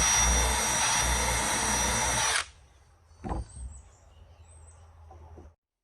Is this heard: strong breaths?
no